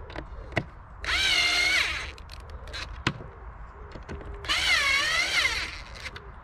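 A power drill runs in two sustained whirring bursts, each about a second long, with scattered knocks and clicks between them. The work is a DIY printer work station being built aboard a narrowboat; no one speaks.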